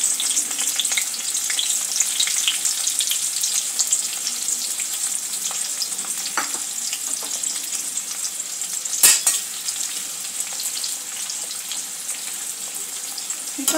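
Sliced onions frying in a pan give a steady, close hiss of sizzling that runs the whole time, with a few soft clinks and stirring knocks and one sharper clatter partway through; no one speaks.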